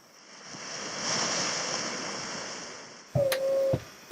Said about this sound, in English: It got rolly now since we are sailing that downwind.